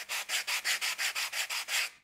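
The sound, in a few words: sanding with fine side of Perma-Grit sanding block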